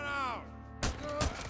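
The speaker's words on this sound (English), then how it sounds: "That sniper's gonna hit me." A sniper rifle in the game Days Gone fires two sharp, loud shots about half a second apart, each with a short booming tail. A voice is heard just before the first shot.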